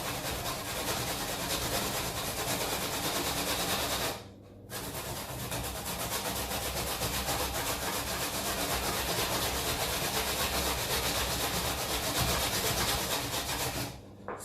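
Beetroot rasped on the sharp side of a hand grater, a loud continuous scraping stroke that runs on with two short breaks, close and alone.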